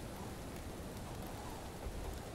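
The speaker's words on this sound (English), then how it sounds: "Okay, now it's raining." Rain in the Spyro Reignited Trilogy video game hisses as a soft, even wash of noise, steady and fairly faint, with no voices present.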